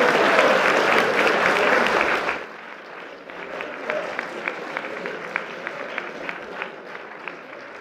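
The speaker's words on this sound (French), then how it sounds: "On peut l'applaudir déjà." A theatre audience at a mentalism show claps loudly for a couple of seconds, then the applause drops to a thinner scattering of individual claps and murmur.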